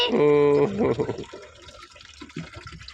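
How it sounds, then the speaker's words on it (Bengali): Water is poured over garden plants from a container, giving a gushing, splashing pour that is strongest early on and then tapers into softer trickles, while a voice is heard briefly at the start. "আমি গাছে জল দিচ্ছি"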